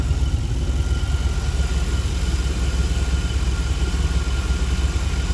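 A 1989 throttle body injection engine runs with a shimmying belt, a steady close idle drone with a fine rapid rattle and no talking.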